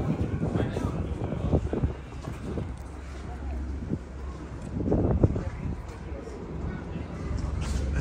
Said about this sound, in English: It's crazy windy here.